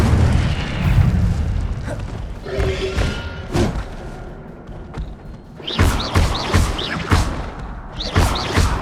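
Incendio fire spell cast during combat in Hogwarts Legacy, a burst of whooshing flame and heavy booming impacts, with a dense rumbling stretch at first and a rapid series of sharp, crackling hits in the last few seconds.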